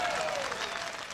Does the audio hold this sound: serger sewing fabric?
no